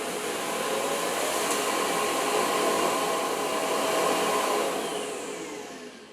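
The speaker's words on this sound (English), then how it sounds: "It's going to suck up all that mess into the vacuum bag that's in the home base." A Viomi S9 robot vacuum's home base switches on to pull dirt into its bag, a loud steady airy roar that holds for several seconds, then tapers off at the end, with no talking.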